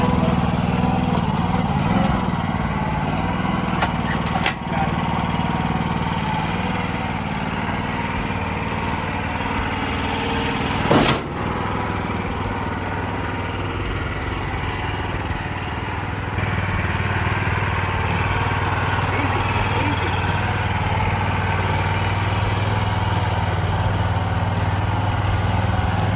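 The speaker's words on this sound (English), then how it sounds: "you drove the trencher over here" A trencher's engine drones steadily and loudly throughout while the machine is driven and unloaded, its motor note holding constant with a sharp knock or two partway through.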